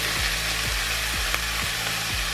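Finely diced pepper and sliced mushrooms fry in hot oil in a pan, a steady close sizzle with soft rhythmic stirring scrapes.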